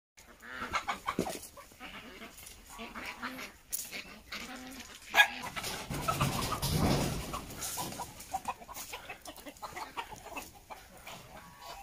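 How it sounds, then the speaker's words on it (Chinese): Free-range chickens on a small eco farm raising local chickens and ducks, with scattered clucks and farmyard noise mixed among other animal sounds and people talking nearby, fairly faint overall. "这个鸡不够，还要去抓鸡。"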